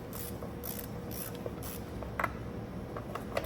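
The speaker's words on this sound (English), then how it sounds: "I'm gonna loosen them with the ratchet first." A ratchet loosening intake manifold bolts on a Toyota engine gives quiet, rhythmic clicking bursts of mechanical ratcheting over a low hum, with a few sharper metallic ticks.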